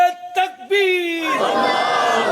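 At a religious gathering, a leader's loud call is followed by a crowd chanting religious slogans in unison, a sustained roar of many voices right after the call.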